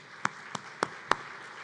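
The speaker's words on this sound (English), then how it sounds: "One more round of applause for Rodney Peterson, please" Four separate claps spaced evenly about a quarter second apart, faint against a quiet room hum, a thin scattered start of applause from a conference audience.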